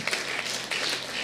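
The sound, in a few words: congregation applause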